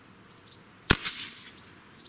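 A single sharp shot from a Beeman Model 1359 .25 caliber bullpup airgun cracks loudly near the middle, followed by a short ringing tail and quiet room tone.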